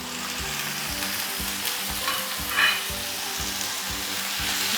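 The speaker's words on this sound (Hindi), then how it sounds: "इसको थोड़ा सा भूनने के बाद फिर बाकी चीज़ें इसमें शामिल कर देंगे।" Chicken sizzles and fries in a pan under light stirring, a steady crackling hiss at moderate volume throughout, with no voices.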